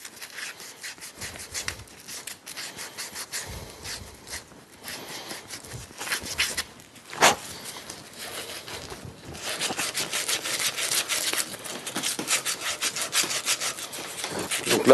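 A brass pipe fitting is scrubbed clean before tin soldering: a steady, close rasping scrape with repeated back-and-forth strokes that grow louder and more insistent toward the end, with no talking.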